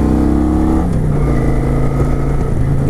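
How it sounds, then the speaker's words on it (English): A Kawasaki Vulcan 900 motorcycle engine revs high just after starting and then settles toward idle, making a loud, close, continuous engine drone with the pitch easing down partway through and no talking. "when you first start these things up, it'll rev up real high and then it'll start to drop the idle"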